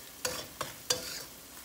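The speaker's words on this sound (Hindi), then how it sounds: "इसे अच्छी तरह से हम मिक्स कर लेते हैं।" Cabbage curry being stirred in a frying pan, with three distinct scraping strokes of the spoon over a faint, steady sizzle, close and fairly quiet.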